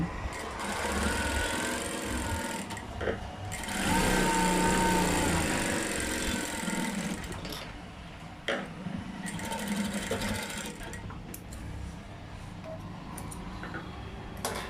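A sewing machine runs a straight stitch along a blouse piece, a steady close mechanical whirr with a brief slowdown midway, heard alone without talk.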